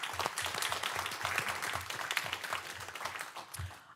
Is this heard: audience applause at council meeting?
yes